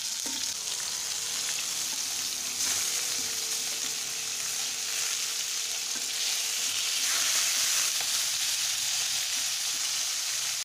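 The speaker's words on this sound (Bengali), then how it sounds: "তা পটলটা আমি আগে এই তেলে দিয়ে দিই।" Pointed gourd (potol) frying in hot oil in a pan for a Bengali fish curry with vegetables, a continuous bright sizzle and crackle that holds steady and close throughout, with no talking.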